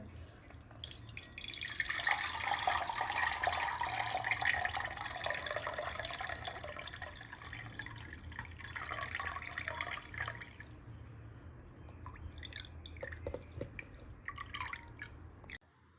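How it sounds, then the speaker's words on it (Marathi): Water drains off rinsed flattened rice (poha) in a home kitchen, a steady trickling pour for about ten seconds, close and moderate in level, that tapers into scattered drips and small clinks with no talk. "आता हे पाणी काढून टाकूयात."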